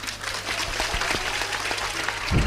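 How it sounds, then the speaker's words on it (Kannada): Audience applause at a religious discourse gathering, a steady wash of clapping that stays fairly even throughout and swells slightly near the end. "ಇನ್ನೊಮ್ಮೆ ಚಪ್ಪಾಳೆ ಹೊಡ್ರಿ ಅವರಿಗೆ"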